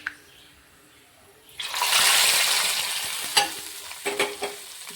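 Hot garlic tempering is poured into sambar, bursting into a loud sizzling hiss that slowly fades, followed by spoon clinks and scraping stirs near the pot.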